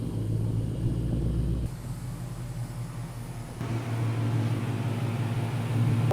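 A Ford Mustang S550, bagged and fitted with headers, idles with a deep, loud exhaust rumble close by as it is turned around, the engine note shifting in level partway through.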